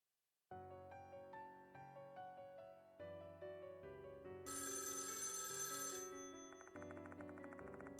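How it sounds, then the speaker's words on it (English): A telephone rings in the Death Mark game as the player arrives at a mansion, an electronic ringtone starting abruptly and repeating in a steady pattern, loud and alone. "As I arrive at the mansion, the phone rings."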